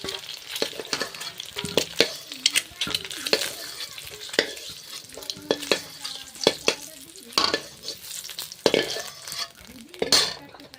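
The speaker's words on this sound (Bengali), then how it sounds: "এবার তেলে কাঁচা লঙ্কা পেঁয়াজ দিয়ে দিচ্ছি" Green chili and onion frying in hot oil, a steady sizzle broken by repeated sharp scrapes and clinks of a utensil stirring in the pan, close and moderately loud.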